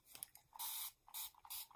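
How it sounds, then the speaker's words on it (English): Mary Ellen's Best Press starch spray is pumped onto wool appliqué fabric in three or four short, close hissing bursts separated by brief pauses. "doing a general spray all over"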